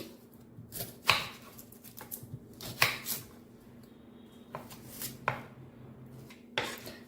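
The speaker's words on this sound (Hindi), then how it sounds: "तो सबसे पहले हम प्याज और शिमला मिर्च को एकदम बारीक चॉप कर लेंगे।" Onion and capsicum are finely chopped with a knife on a board, producing irregular, crisp knocks in short bursts at close range. No voices are present.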